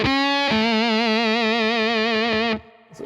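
Electric guitar through a fuzz pedal with an overdrive placed before it, holding one thick, saturated note with a pronounced wobble for about two and a half seconds before it cuts off, loud and alone.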